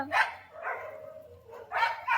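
Several dogs bark in quick bursts, three rough yelping barks spaced over a couple of seconds, moderately distant and fairly faint, with no talk.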